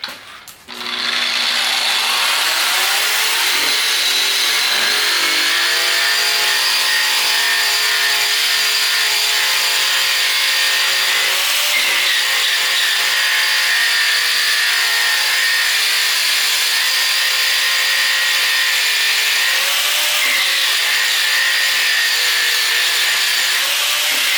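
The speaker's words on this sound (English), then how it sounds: "so now we're trying it out with a 120 grit wheel" A rust removal tool spinning a 120 grit wheel, a continuous loud whirring grind that holds steady for the whole stretch with brief dips, no voices.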